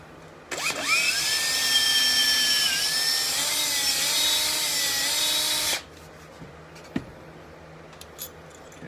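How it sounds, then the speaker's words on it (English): A power drill with a 3/16 bit bores out a part of a trap in one steady, whining run of about five seconds, close and loud, then stops abruptly, followed by a faint clink. "drill this out."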